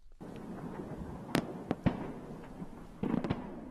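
Strikes from coalition airstrikes on the besieged Syrian town of Kobani, heard as several sharp distant blasts and booms, one at a time and then a quick cluster, over a steady low rumble of background noise.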